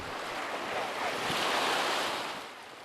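Sea waves washing onto the Red Sea coast of Egypt, a steady broadband surf swelling and easing over a few seconds, mixed with light wind rush and no voices.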